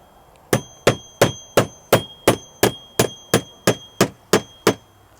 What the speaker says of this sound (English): you would see we would just continue along, nailing these